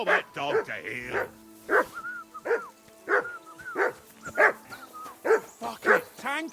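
Loud, insistent barking from a dog in the video game Kingdom Come: Deliverance 2, a quick series of close, punchy barks and yips with a short whine between them.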